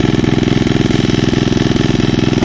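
A steady, rhythmic farm engine idling up close while warming up, its even chugging pulse holding constant throughout.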